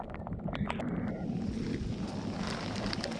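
Strong wind blows across a trout-fishing spot, roaring steadily as broadband noise with buffeting on the microphone, joined by occasional clicks and water sounds.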